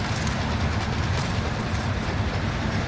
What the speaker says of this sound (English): Train! No one's on the train!